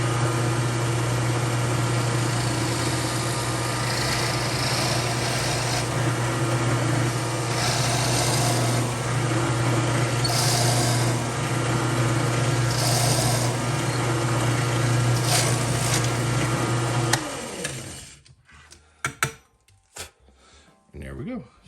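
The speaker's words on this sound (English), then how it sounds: "I'll cut this real quick, and we'll get it drilled" A drill running steadily through a wooden pen blank chucked in a lathe, a loud continuous motor hum with a droning whine for most of the stretch, then stopping abruptly and leaving a few faint knocks and handling noises.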